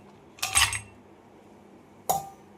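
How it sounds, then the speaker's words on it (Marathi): Ice cubes dropped into a serving glass for raw mango cold sherbet: two separate bright clinking clatters, the first fuller and longer, the second a short sharp clink, close by with quiet gaps between. "आता ग्लासमध्ये बर्फाच्या वड्या टाकून घ्यायच्या"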